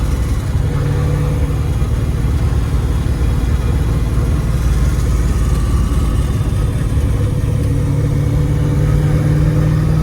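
A 1994 Chevrolet Corvette with a rebuilt LT1 V8 is driven in third gear, giving a loud, steady low engine drone with transmission whine throughout and a tone that rises slightly toward the end.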